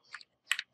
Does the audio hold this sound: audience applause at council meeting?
no